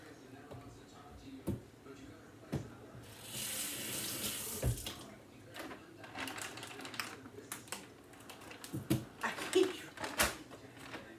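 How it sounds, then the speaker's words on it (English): Water drains and splashes in a kitchen sink while shrimp is being handled, with a burst of running-tap rush, clattering knocks of items against the basin and a person talking intermittently nearby. "Drain all the water."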